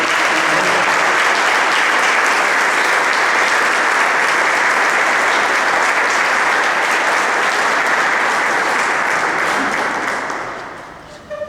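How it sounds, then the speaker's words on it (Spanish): Loud, dense applause from the audience at a book presentation, honoring Dr. Carlos Velázquez; continuous clapping holds steady for about ten seconds before fading quickly. "Un aplauso más fuerte para el doctor Carlos Velázquez"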